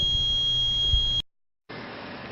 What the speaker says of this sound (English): Here it has been detected, an LED glows over here and buzzer gives a sound.